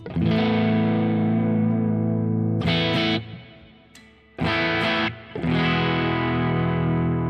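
Electric guitar runs through a Quad Cortex amp preset with natural amp overdrive, producing loud, sustained distorted chords that ring out, cut off briefly twice with short muted gaps, then resume with no voices.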